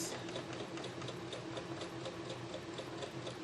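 A sewing machine stitches a quilt with a steady fast mechanical whir and regular ticking needle strokes, continuous and close throughout without any talking.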